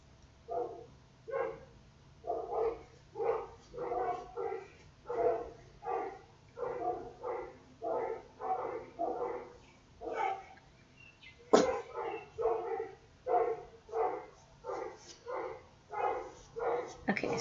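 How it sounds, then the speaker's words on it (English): Dogs barking in a steady run of sharp, regular barks, roughly one or two per second, fairly close and moderately loud, with a brief louder clatter partway through. "Please mind the doggies, they bark at all the scooters that come through"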